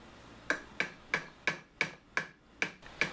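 Hammer blows drive nails into a wooden bat being made into a spiked bat, eight sharp, evenly spaced strikes ringing with a metallic ping, close and clear with no talking.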